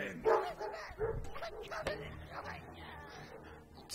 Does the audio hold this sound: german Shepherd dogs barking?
yes